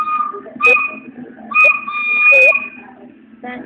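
A whistle is blown in two sustained, steady blasts of moderate loudness, with a dog barking and yipping around them and voices talking in the background.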